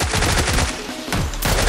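Rapid automatic gunfire in the video game PUBG Lite rattles in fast bursts, a dense, loud stream of shots with a short pause before the firing resumes.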